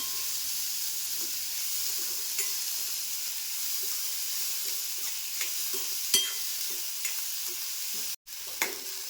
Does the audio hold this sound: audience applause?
no